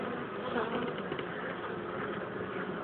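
Honey bees buzz at a beehive, a dense, continuous close-up drone of many insects at even loudness throughout.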